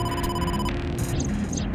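A phone rings in the video game AI: The Somnium Files, sounding a repeating electronic trill of tones that cuts off partway and resumes as short, bright warbling chirps, steady and close with no talk over it.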